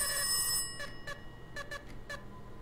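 A telephone rings in a VR video game, a shrill electronic tone followed by a series of short bright bursts at an uneven pace, moderately loud with no talk.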